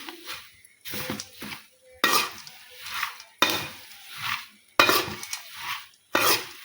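Spicy chooda, a flattened-rice snack, is tossed and mixed in a bowl, producing rhythmic bursts of dry rustling and scraping about every second and a half, with brief quiet gaps between strokes.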